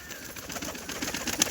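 Pigeons gathering close by give soft coos and brief flutters, a steady low murmur of birds with no talking.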